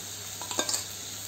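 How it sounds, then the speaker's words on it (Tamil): Ginger garlic paste and onions sautéing in a pan, a steady soft sizzle with a brief cluster of spoon stirs and scrapes in the middle, close and without talk. "இஞ்சி பூண்டு விழுது போட்டாச்சுன்னா கொஞ்சம் நேரம் வதக்கணுங்க"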